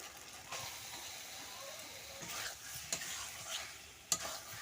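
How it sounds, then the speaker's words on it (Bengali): Boiled potatoes and yam are added to spices frying in a pan for a fish curry, a soft steady sizzle with a few scraping stirs and knocks, quiet and close. "আমি সিদ্ধ করে রাখা আলু খামালুগুলো দিয়ে দিচ্ছি"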